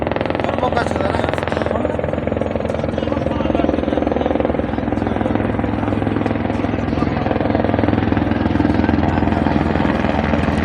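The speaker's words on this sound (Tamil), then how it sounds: "இது பாருங்க ஹெலிகாப்டர் வந்து இறங்கி ஒரு செகண்ட் அது தலை கூட்டிகிட்டு போயிட்டே இருக்குது" A helicopter landing and taking off at Kedarnath: rotor thumps and turbine roar hold steady and loud throughout, with voices talking over the noise.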